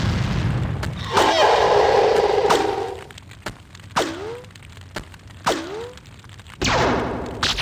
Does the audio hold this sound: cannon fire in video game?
yes